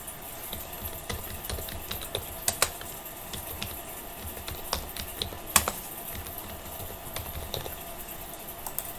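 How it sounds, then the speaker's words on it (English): Computer keyboard typing while entering data into an Excel spreadsheet, a steady patter of close, crisp keystrokes with occasional sharper taps, over faint background noise and no speech. "We type the data in that cell."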